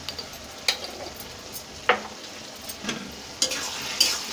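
Small-fish curry being stirred in a pan, a quiet sizzle broken by a handful of sharp spoon scrapes and taps against the metal.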